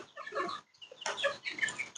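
Caged native hill-breed roosters and hens cluck close by in two short, busy bursts separated by a brief pause, with no talking.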